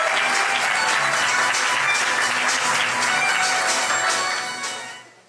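Guests at a civil wedding ceremony applaud a witness, brisk clapping mixed with faint musical tones, loud and steady before tapering off at the end.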